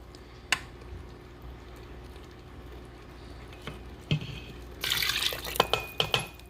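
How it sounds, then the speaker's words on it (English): Water is poured into spaghetti sauce inside an Instant Pot, a soft splashing pour building near the end with light clinks of a cup against the pot. "we're going to add some water in here"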